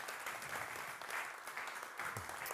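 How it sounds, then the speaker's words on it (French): Conference audience applauding guests as they come on stage at a talk on sustainable, local food business, a soft, fairly distant wash of continuous clapping from a crowd. "On peut les applaudir"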